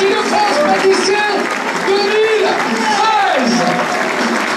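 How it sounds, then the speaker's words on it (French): An audience claps and cheers for a young pastry chef at a best-apprentice pastry competition, with continuous applause filling the room while an announcer's amplified voice talks over it. "Applaudissements, mesdames et messieurs, pour Maxime Réfé"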